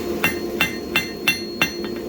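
A hammer strikes a small piece of steel on an anvil while a blacksmith tapers the end of a scorpion tail bottle opener: five evenly spaced, ringing blows, then a couple of lighter taps.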